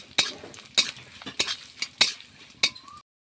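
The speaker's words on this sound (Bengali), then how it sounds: "এখন একটু আমি বড়িটা ভেজে নেব" Bori lentil dumplings fry in hot oil, with a soft sizzle broken by several sharp metallic scrapes and clinks of a spatula against the pan, close by.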